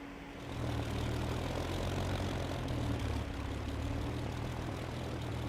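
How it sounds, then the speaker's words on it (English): The engine of a Spitfire Mark 2A aircraft in a video game builds to a steady, loud propeller drone with a deep throbbing hum, running continuously and close, with no talking. "let's try a Spitfire to start with Mark 2A."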